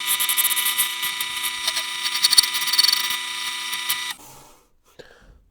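A lathe makes a smoothing pass on a piece of wood, giving a loud, steady high-pitched whirring hiss with small ticks and scrapes, then cutting off abruptly near the end and leaving faint quiet handling noises.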